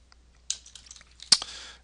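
A few scattered keystrokes on a computer keyboard as a variable name is entered during a programming walkthrough, sparse clicks with a short burst and a sharper tap near the end, close and quiet.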